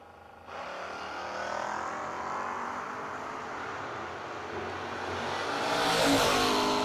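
Drag race cars, a GTO and a Nova, launch in a No-Box 660 shootout. A loud engine roar starts abruptly and holds steady, then swells louder toward the end.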